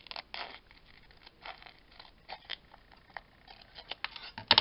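Scissors snip and slide through card during papercraft work, a series of short close rasping cuts and scrapes with quiet gaps between, ending in a few louder crisp snips.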